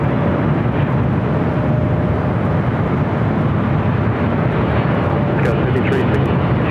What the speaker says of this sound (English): Philippine, the 777-300ER coming in from Manila.